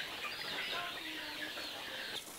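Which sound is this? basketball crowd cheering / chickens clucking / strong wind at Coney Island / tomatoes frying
chickens clucking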